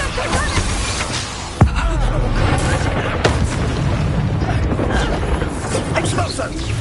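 A Petrificus Totalus spell cast in the Hogwarts Legacy video game lands as a sharp, booming impact amid continuous battle effects, with a second, softer hit a couple of seconds later.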